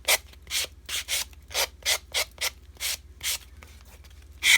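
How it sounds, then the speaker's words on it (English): A nail buffer sands the edge of a coaster in repeated short, even strokes, about ten rhythmic scrapes, close and clear with no talking. "I'm going to take that and I'm just going to sand down."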